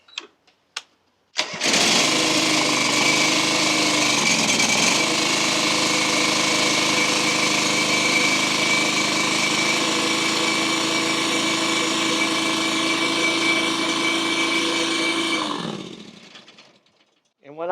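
A John Deere 425 lawn tractor engine cranks and catches, then runs steadily and loud for about fourteen seconds before shutting down and winding off.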